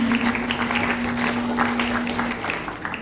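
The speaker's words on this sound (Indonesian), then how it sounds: "Sekarang boleh dong kasih tepuk tangannya untuk paslon ini" An audience applauds a candidate pair at a debate-style forum, a dense, fairly close wash of clapping that holds steady for about three seconds with a faint steady hum underneath.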